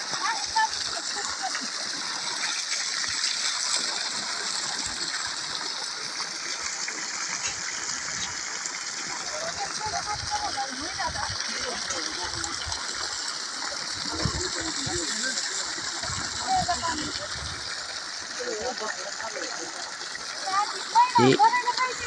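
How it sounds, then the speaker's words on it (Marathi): Irrigation water from a solar pump gushes and splashes steadily into a wheat field outdoors at midday, a continuous close splatter with voices talking over it. "बघा, गव्हाला पाणी चालू आहे."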